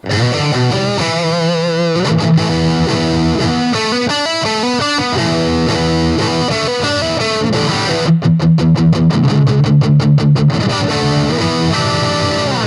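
An electric guitar played through a humbucker pickup with a heavily distorted tone rings out loud and close, strumming sustained chords with pulsing, effected textures and quick choppy bursts in places, with no talking.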